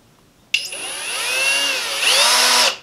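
A power driver with a Crescent Vortex bit drives a 3.5-inch screw, starting abruptly and whining loudly at close range, with its pitch wavering and surging as the bit skips.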